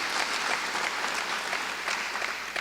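Audience applause at a high school hall of fame induction ceremony, a steady, dense clapping from a large crowd that fills the room without a break, with no voices over it.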